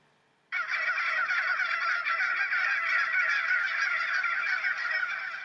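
A large flock of bronze turkeys on a Kildare farm breaks into loud, continuous gobbling and cackling, a dense chorus of many birds that starts abruptly and keeps going without pause.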